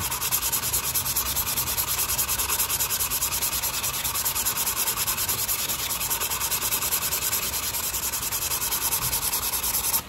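Carbon fiber coating being hand-sanded with abrasive paper, a steady, continuous close scratchy rubbing that runs unbroken and fairly loud throughout, with no voices.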